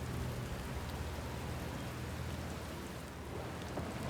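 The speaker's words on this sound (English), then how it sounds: "Rain ASMR." Rain in the game Outer Wilds makes a dense, steady hiss of falling drops, even and continuous throughout, with a low rumble underneath and no voices.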